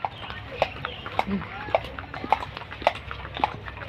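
Horse hooves clip-clop in a steady, evenly spaced rhythm, clear and close, with voices talking over them.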